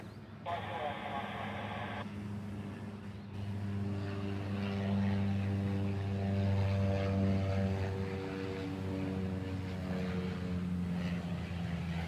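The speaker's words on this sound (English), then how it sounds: "that C-130 has got to be one of the most versatile planes ever made" A Lockheed C-130 propeller transport plane drones overhead with a steady, loud turboprop rumble that swells and holds, heard at a distance while someone talks over it.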